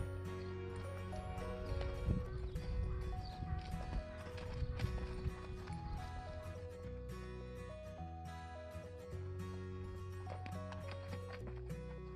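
Hoofbeats of a 2010 Friesian Thoroughbred cross gelding being lunged, a rhythmic clip-clop under prominent background music, with a possible whinny.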